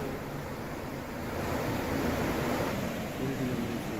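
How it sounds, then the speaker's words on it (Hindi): Swollen Yamuna river in Uttarakhand, rushing after heavy rain, making a steady, loud, broadband roar of churning water with no pauses and no talk. "यमुना नदी उफान पर है"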